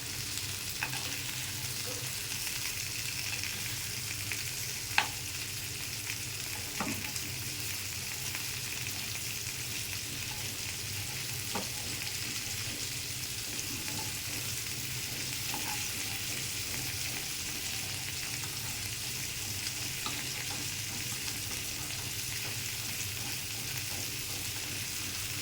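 Rohu-type fish pieces frying in hot oil in a pan for a potato and fish curry, with a steady, close sizzle running throughout and a few soft clinks of stirring and turning.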